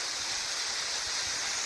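Steady rushing water from a winter waterfall hung with icicles, a dense continuous roar heard alone without any talk.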